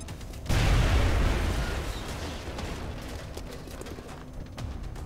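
A grenade blast in XCOM: Long War, a sudden loud boom that bursts in and slowly rumbles away over several seconds, followed by faint debris crackle and scattered ticks.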